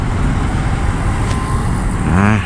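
Steady roar of road traffic with passing engines, a heavy vehicle rumbling louder near the end.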